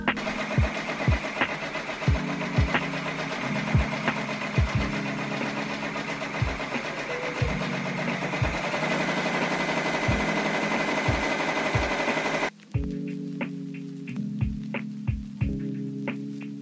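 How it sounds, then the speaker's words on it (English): A Baby Lock embroidery machine stitching at 700 stitches per minute, giving a steady fast mechanical whir with regular rhythmic clacks, loud and close, briefly cutting out near the end before resuming. "I turned down the speed on my machine, but here's what it sounds like going at 700 stitches per minute"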